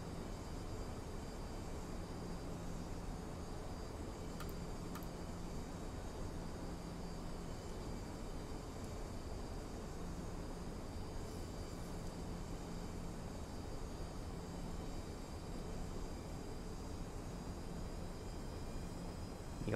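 Steady, even cockpit drone of a Ryanair Boeing 737 on final approach in a PMDG flight simulator, a constant broadband engine and airflow hum with no talk over it.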